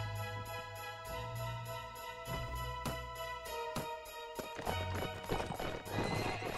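Horses gallop in a video game with a steady rhythmic clip-clop of hooves, joined by neighs and a whinny over a sustained tonal background.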